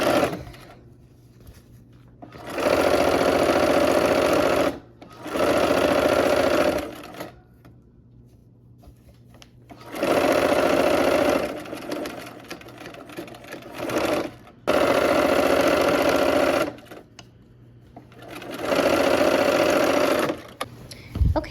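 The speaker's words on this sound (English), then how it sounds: "let's go ahead and sew." Sewing machine stitching quilt blocks, running in four steady bursts of a few seconds each with short quiet pauses between, close and clear with no talking.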